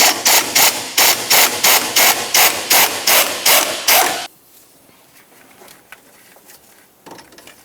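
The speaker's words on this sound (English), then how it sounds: "I'll be using a swivel-headed 13mm. I need to get the right angle on this. We'll come right into that pinch bolt, and then we can remove it." A swivel-head 13mm ratchet loosening the steering shaft pinch bolt on a 1994-2002 Dodge Ram 2500, about a dozen loud, evenly spaced clicking strokes, followed by quiet handling noises and faint clinks.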